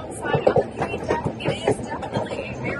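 A train rattles and clatters along the rails with uneven bumps, heard from the outdoor deck of a White Pass Railroad train near Skagway, with people talking over the noise.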